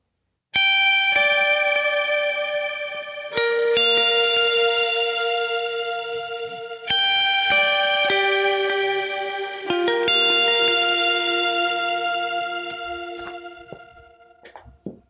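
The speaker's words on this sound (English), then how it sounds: "So kind of get back to the same settings here with the delay and reverb," Electric guitar chords for a worship song ring out through delay and reverb effects, four sustained strums each blooming and slowly decaying into shimmering echoes, played alone without speech.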